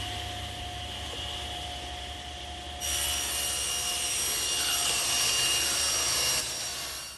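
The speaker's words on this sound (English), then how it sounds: "now I'm going to rip it on the table saw" A table saw rips a plywood sheet for a bookcase, set at a 12 1/8 inch width. The motor's steady whine deepens into a louder, rougher cutting roar partway through, then eases off near the end.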